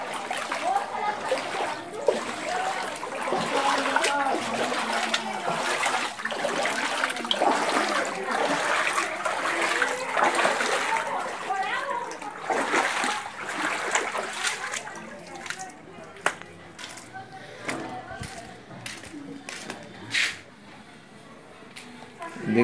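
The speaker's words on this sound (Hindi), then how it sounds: "यहाँ से गटरों के जरिए से यहाँ पर पानी आ रहा है" Floodwater splashes and gushes steadily into a flooded house through drains in Gokak, India, with trickling and sloshing, while people talk over it; the flow quiets toward the end.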